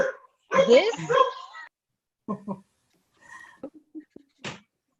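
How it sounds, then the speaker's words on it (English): A dog barks and whimpers indoors during a virtual rally, with short yips and whines in close bursts and brief pauses between them. "Here comes my dog."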